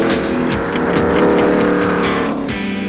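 A 5.9-liter, 650-horsepower race car engine roars loudly and continuously at close range for a few seconds, with a rough, throbbing low rumble.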